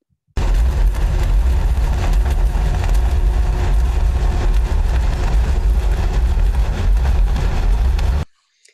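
Underwater recording of loud boat engine noise off British Columbia, a dense continuous rumble and hiss that fills the whole stretch and buries any orca calls beneath it.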